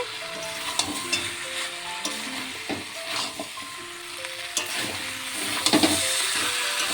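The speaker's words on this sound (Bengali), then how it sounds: "মাটনটিকে মশলার সাথে ভালোভাবে নেড়ে ছেড়ে কিছুক্ষণ কষিয়ে নিয়েছি।" Mutton tossed with spice paste in a pan: a steady bubbling sizzle with repeated spatula scrapes and clatters, and a faint musical background running underneath.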